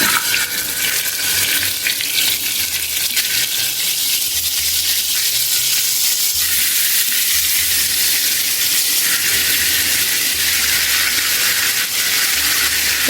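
Marinated chicken fries in oil in a pan, giving a loud, steady sizzling hiss that holds evenly for the whole stretch, close up with no talking.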